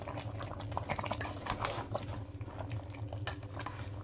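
Okra sauce with spinach leaves, onion, bell pepper and chili simmers in an open pot with a steady low bubbling and soft popping. The sound stays quiet and close throughout.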